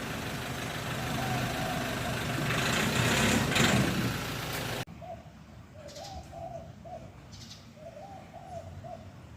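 A dove coos in short repeated phrases in the second half, fairly close, after a stretch where a loud idling engine drowns everything out.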